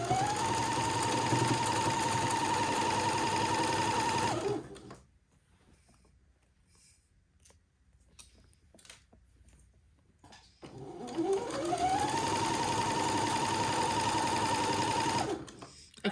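A sewing machine stitches the bottom hem of a dress in two long steady runs, close and whirring, with a quieter pause between where small handling clicks and pins being pulled are heard.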